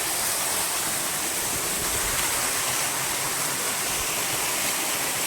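Loud, steady roar of rushing water pouring down a waterfall, dense and unbroken throughout, with no voices.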